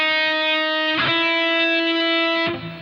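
An electric guitar played through distortion holds sustained, buzzing notes for a left-hand synchronization exercise, with two sharp pick attacks changing the note, loud and alone.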